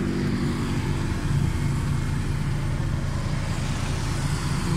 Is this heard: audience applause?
no